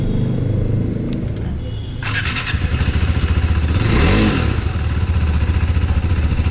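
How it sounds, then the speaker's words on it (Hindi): A KTM 390 Adventure motorcycle engine idles with a throaty, pulsing exhaust, then revs up loudly around the middle before settling back to a steady rumble, close by. "So this was the exhaust sound."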